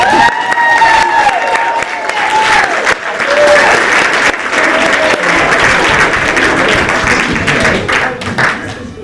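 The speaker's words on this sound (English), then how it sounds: "especially a big round of applause for his creation of the door" Loud, sustained applause from a school theatre audience honoring the props maker who built the set's door and wings, with scattered cheers and voices mixed into the dense clapping throughout.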